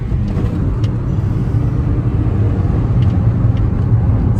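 A Toyota with a 1.4 engine accelerating under power, a dense, loud, continuous low rumble heard from inside the car without talk.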